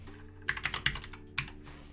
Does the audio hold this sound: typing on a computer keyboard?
yes